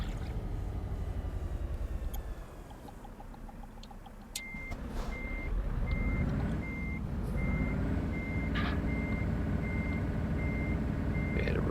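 A heavy truck in Euro Truck Simulator backs up, its reversing alarm beeping in a regular repeating pattern over a loud, steady engine rumble that swells midway as the truck moves.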